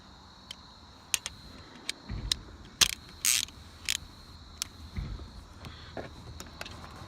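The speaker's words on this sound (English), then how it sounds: "try to get that battery bolt out" Ratcheting clicks and metallic taps from removing the battery hold-down bolt on a 2014 VW Passat, a series of sharp irregular clicks with a short rasping burst, close and fairly quiet with no talk.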